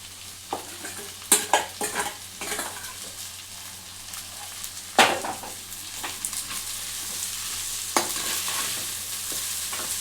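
Spatula strokes toss pre-fried egg into street-style schezwan egg fried rice in a hot pan, sharp scraping and clattering bursts over a soft steady sizzle.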